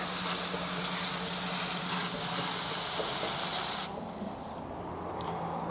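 Close, loud hiss of water spraying onto sprouting sunflower seeds, misting steadily for several seconds, then cutting off abruptly, leaving a quieter background.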